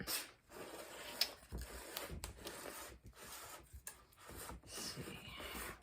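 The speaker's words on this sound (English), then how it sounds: "I'm gonna just take a spatula and go around the edges a little bit." A spatula scrapes around the edges of a no-bake pumpkin cheesecake in a series of quiet, close rubbing and scraping strokes with short pauses between them.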